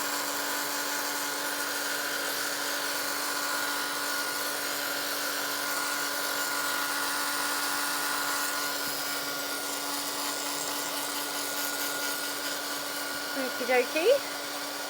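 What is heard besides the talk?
hair dryer drying off wet paper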